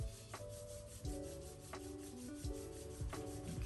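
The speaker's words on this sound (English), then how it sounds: "we begin with having your hands together, and then we start to rub our hands" Bare hands rub briskly together in a Pilates hand and wrist exercise, giving a close, soft, repeated swishing friction with no talk.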